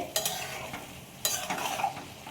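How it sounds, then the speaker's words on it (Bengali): A spoon scrapes and stirs boiled ghugni peas sautéing in a pan, with a few sharp stirring strokes over a soft, close sizzle. "আমি কষিয়ে নিচ্ছি।"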